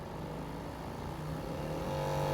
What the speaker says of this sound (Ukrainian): Бачите, який слабенький тиск іде, і відповідно чути, як працює мотор